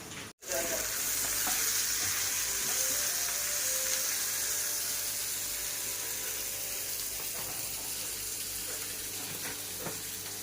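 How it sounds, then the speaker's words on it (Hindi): Onions fry in a pan in a home kitchen, producing a loud, steady sizzle that continues close up after a brief dropout at the start, with faint stirring knocks and no talking. "और इसके बाद ये प्याज है, इन्हें फ्राई करूँगी।"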